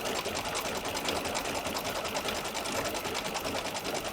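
An embroidery machine stitches an appliqué design with a steady, fast mechanical whir and rapid needle chatter running continuously at moderate loudness, with no talking.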